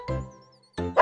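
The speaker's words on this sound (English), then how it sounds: "The donkey meets an old dog." An old dog in an animated fairy-tale musical barks twice, a short woof followed after a pause by a louder, brighter second bark, close and clear with no talking.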